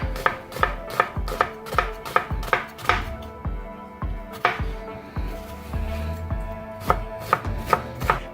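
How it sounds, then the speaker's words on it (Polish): A knife dicing a medium onion on a cutting board, a quick run of sharp, close chops in an uneven rhythm with short pauses, loud and without speech. "Teraz jedną taką średnią cebulę pokroję sobie w kostkę."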